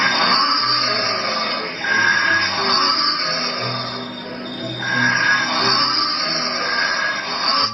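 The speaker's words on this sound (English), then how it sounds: "It's all fun and games until you find out what a penguin trying to pipe sounds like." Blue (fairy) penguins calling from under houses, a dense, continuous braying chorus of harsh wheezing and piping calls with rising and falling surges, fairly loud and close, with no talk over it.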